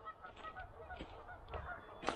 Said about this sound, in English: The geese that were going off pretty much all night.